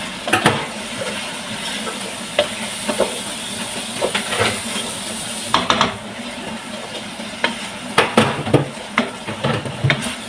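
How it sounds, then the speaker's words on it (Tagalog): Spiced meat for kabsa being mixed in a cooking pot, giving a steady wet hiss and rustle punctuated by repeated scraping, stirring clatters throughout. "Kailangan i-mix natin siya para well combine talaga yung mga spices na nilagay natin doon sa meat."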